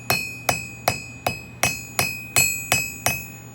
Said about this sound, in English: What we're going to use is a metal hammer. We're going to set it on the anvil like this